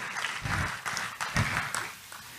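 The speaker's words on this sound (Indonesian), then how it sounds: "Tepuk tangan dulu dong buat Tuhan Yesus." A church congregation applauds during a sermon, a dense burst of clapping that swells and fades over a couple of seconds with no voice over it.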